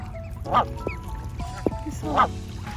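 Swans floating on water give several nasal honking calls, spaced irregularly and fairly close, over low background noise.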